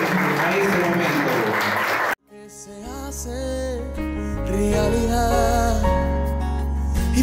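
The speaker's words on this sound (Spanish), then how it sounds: "Recibámoslos también a ellos con fuertes aplausos" Wedding guests clap together for about two seconds, a dense, fairly loud round of applause, before it cuts off abruptly and sung music with sustained tones and a deep bass takes over.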